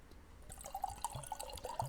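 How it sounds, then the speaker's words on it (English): Wine poured into a glass, a soft, faint gurgle and splash of liquid that rises over a couple of seconds, heard close up with no voices. "let me just pour this wine."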